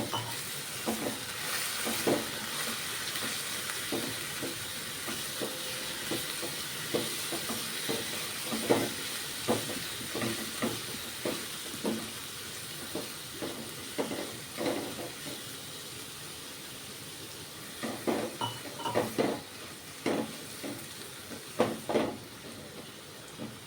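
Finely chopped vegetables frying in oil for veg manchurian: a steady soft sizzle and hiss runs throughout, broken by repeated scraping stirs that cluster in bursts, close and moderate in volume with no talking.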